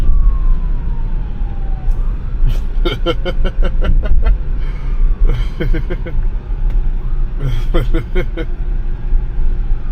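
Emergency vehicle sirens wail loudly on a road with passing traffic, heard from inside a car pulling over, the sirens rising and falling in repeated bursts over a steady road rumble.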